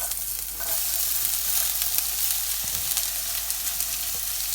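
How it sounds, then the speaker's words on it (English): Onions sizzle loudly in a hot pan, a steady bright crackle with faint clinks of stirring. "So the pan's nice and hot. That's smoking already. So I'm going to put the onions in straight away."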